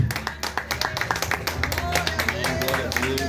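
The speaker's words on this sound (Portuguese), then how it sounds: "Dá uma salva de palmas para o Senhor Jesus." Applause for Jesus at an outdoor street church service: a small group claps in a quick, uneven rhythm, with distinct individual claps close by and voices murmuring underneath.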